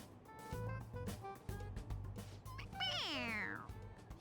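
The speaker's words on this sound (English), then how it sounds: "It meows when you press on its head." A toy cat in Persona 5 Royal meows when its head is pressed: one drawn-out, falling meow near the end, loud and close, after a stretch of steady game music.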